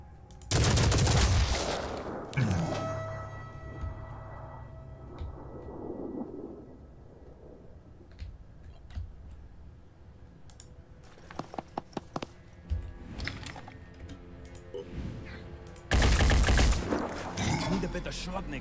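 Gunfire in the turn-based tactics game Phoenix Point: loud booming blasts at the start and end, with a quick burst of sharp shots in the middle over low game ambience.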